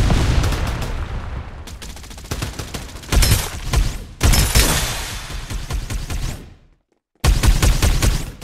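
Rapid automatic gunfire in the battle royale shooter Farlight 84, loud bursts of rattling shots in several long volleys, with a brief silent gap before firing resumes abruptly.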